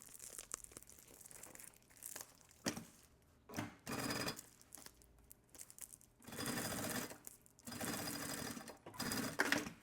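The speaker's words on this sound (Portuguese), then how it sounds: "Agora eu vou costurar o fundo." A sewing machine stitches the bottom of a fabric thermal bottle holder in bursts of fast, even whirring. Quiet gaps fall between the runs, and faint fabric handling can be heard in them.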